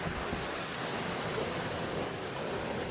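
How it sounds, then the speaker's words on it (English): Heavy rain pours steadily outside an open window, a dense, even hiss of broadband noise that stays constant and fairly loud throughout, with no voices. "It's like just pouring it down out there."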